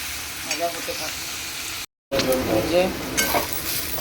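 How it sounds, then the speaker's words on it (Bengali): Fish balls fry in hot oil with a steady close sizzle and occasional stirring scrapes, cut by a brief silent break before the crackling resumes. "ভাজা হোক ভাজা হয়ে গেলে তেল তুলে রাখবো"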